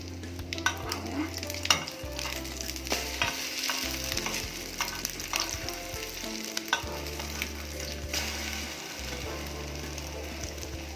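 Egg-soaked French toast fries in a pan with a soft, continuous sizzle, broken by clattering stirs and utensil knocks against the pan, with a low droning hum underneath.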